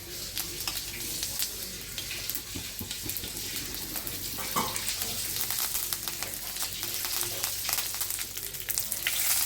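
Cumin seeds and a sprig of curry leaves frying in hot oil before bitter gourd goes in, a steady close sizzle with crackling spits that grows slightly louder over the stretch, no voices.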